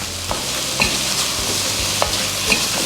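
Onions and ginger garlic paste fry and get stirred in a pan for a veg jalfrezi, with a steady sizzle under sharp, periodic scrapes of a spoon against the pan, close and fairly loud, with no voices.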